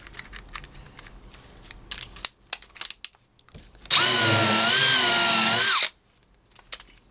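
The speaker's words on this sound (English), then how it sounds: "So I'm going to try this countersink for you now." After some faint clicks and taps, a drill with a countersink bit spins up and whirs loudly for about two seconds with a slight pitch wobble, then stops.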